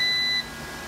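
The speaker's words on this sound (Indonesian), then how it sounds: "Tanggalin ko lang yung sound. Yung alarm ng sound." An Eaton 9E10KVA UPS in bypass mode sounds a loud, steady electronic alarm beep that holds for under half a second and then cuts off, leaving a faint hum.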